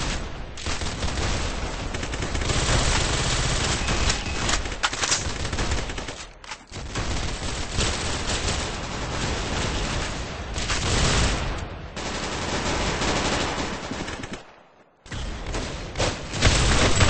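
Dense, loud gunfire from the Roblox shooter game Arsenal fills the scene, rapid continuous bursts of shots and booms with only a few brief gaps between volleys.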